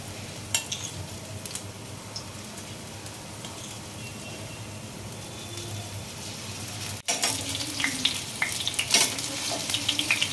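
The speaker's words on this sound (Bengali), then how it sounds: "এটা একটু ভেজে নেবো আমি" Spiced okra fries in a pan with a steady, dense sizzle throughout, growing busier and louder after a brief break, as if the pieces are stirred or turned.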